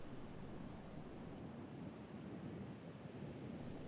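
Surf breaking along the New Jersey coast in harsh, windy weather, a continuous close roar of waves mixed with buffeting wind noise, no voices present.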